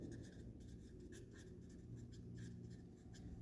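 Pen scratching across paper while working a grade 6 math problem, a continuous close scribbling with brief strokes and no speech.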